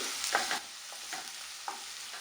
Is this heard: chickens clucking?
no